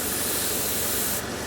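An airbrush sprays white primer in a continuous close hiss held on one spot, loud and even throughout, with a slight change in tone near the end and no talking.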